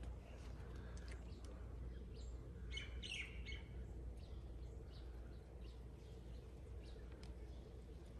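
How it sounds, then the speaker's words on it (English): Scattered small birds chirp and tweet in short bursts at the Kalahuipua'a Fishponds on the Island of Hawai'i, over a low, steady background hum, faint and a little distant. "Listen to these birds."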